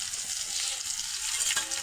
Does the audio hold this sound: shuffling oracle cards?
no